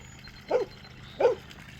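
A dog gives two short, fairly close barks about three quarters of a second apart beside a pond, with quiet outdoor background between them.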